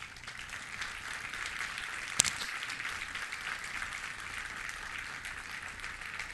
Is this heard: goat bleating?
no